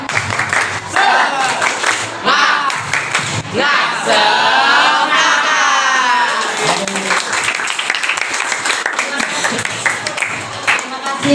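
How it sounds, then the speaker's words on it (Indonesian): A classroom group does a rhythmic spirit clap, patterned clapping mixed with loud voices chanting and shouting together throughout, fairly close and energetic. "Tepuk semangat."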